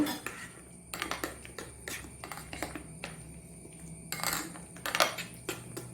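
A spoon stirs jaggery water into semolina batter in a bowl, giving irregular close metallic clinks and scrapes against the rim between quieter stretches.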